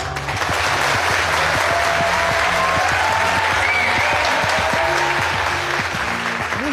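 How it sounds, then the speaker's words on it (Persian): Audience applause in a TV show studio, loud sustained clapping from a crowd with music playing underneath, continuing evenly for several seconds. "میشنوی صدای تشویقو؟"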